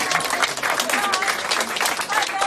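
Hospital doctors and nurses in a critical care unit applaud a patient heading home after a six-month stay, with steady, dense clapping throughout and some voices mixed in.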